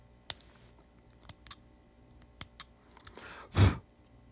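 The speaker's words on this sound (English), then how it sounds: "I've peeled up a little bit of what appears to be glue right here, and I'm gonna cut it off." A small blade or snips cut away a peeled strip of old glue on a mandolin: a few light, sparse clicks and snips, ending in one louder scraping cut, close up and with no talk.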